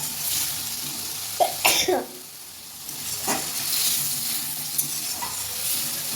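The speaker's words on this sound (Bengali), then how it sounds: "সব মশলা দিয়ে আবার একটু কষাতে থাকছি" Spices sautéed in a pan, a soft continuous sizzle with stirring scrapes, broken by a couple of coughs and throat clearing from a person nearby.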